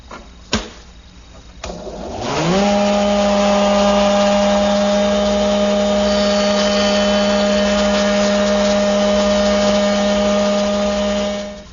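A shaper spinning up with a rising whine, then holding a loud steady tonal hum while a 3/8-inch radius bead bit mills one edge of 1/4 by 1.125 inch wood stock, close and continuous until it cuts off.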